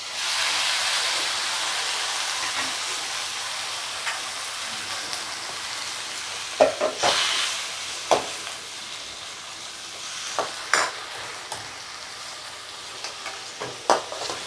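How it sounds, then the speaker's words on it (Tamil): Chopped tomatoes sauté in a hot pan for a Tamil tomato gravy, giving a steady loud sizzle and hiss. Scattered scraping knocks come from a spoon stirring through the pan, with no talking. "தக்காளி நல்லா வதக்கணுங்க"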